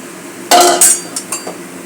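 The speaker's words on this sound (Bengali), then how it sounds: "এবার আমি বেগুনগুলোকে দিয়ে দিচ্ছি" Eggplant pieces dropped into a cooking pot for a fish curry with watery broth, giving a loud clattering thunk, then a few lighter knocks against the metal that fade out quickly.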